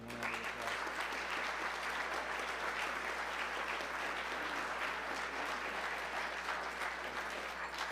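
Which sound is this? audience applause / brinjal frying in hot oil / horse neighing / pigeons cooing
audience applause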